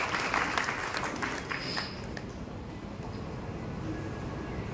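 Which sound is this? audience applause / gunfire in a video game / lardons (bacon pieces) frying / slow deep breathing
audience applause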